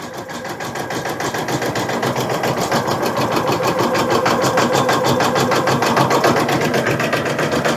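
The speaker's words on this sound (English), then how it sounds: "It is going to stitch it out at 660 stitches per minute." Janome MC100E embroidery machine stitching out a design at 660 stitches per minute, a close, steady rapid clatter that holds at an even pace throughout, with no talking.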